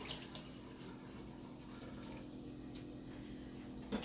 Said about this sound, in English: So you wash off your ingredients.